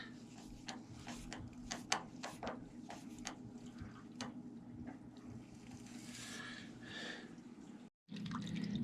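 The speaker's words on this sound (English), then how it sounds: "here comes the water that's in the hot water tank" Water drains from a water heater tank, dripping and trickling steadily with scattered ticking drops over a low background hum, then a brief gap before the flow sound resumes.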